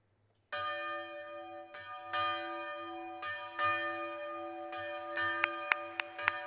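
Handbells rung by bell ringers at a university commencement ceremony: a clear resonant strike followed by several more spaced peals, the tones overlapping and sustaining, with a quick cluster of sharper strikes at the end.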